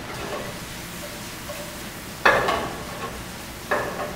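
Spinach wilts in a pan over a steady low sizzle, with two brief louder bursts of frying and stirring, close and without talking.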